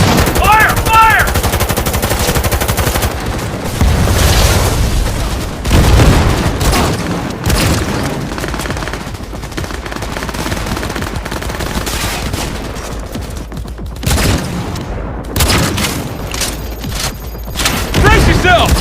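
Heavy gunfire in the Cyberpunk 2077 video game: loud, sustained automatic bursts and booming impacts roll on without pause, with voices shouting over the battle.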